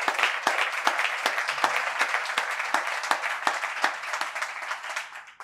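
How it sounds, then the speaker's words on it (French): An audience at a short-film festival evening in Pointe-Noire applauds, with a rhythmic stream of crisp individual claps that rings out moderately loud and steadily for several seconds, then fades. "Et pour les ateliers, applaudissez-les également très fort."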